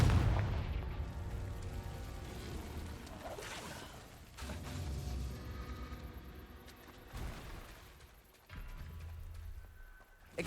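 Confringo spell explosions in Hogwarts Legacy thud and crack amid chaotic combat, several booming bursts scattered through busy game noise and hoof-like clatter.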